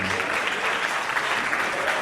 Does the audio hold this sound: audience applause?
yes